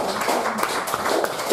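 Audience applause at a stage event as a performer is called up, a dense steady patter of clapping throughout with no break.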